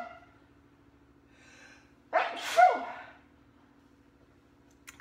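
A single close, sharp sneeze with a quick breath before it, set against quiet room hum.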